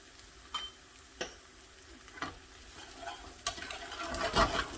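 Turmeric and chilli powder stirred into chicken in a pan: a few separate scrapes and knocks of a spoon against the pan over a faint sizzle, quiet and close, with no talking.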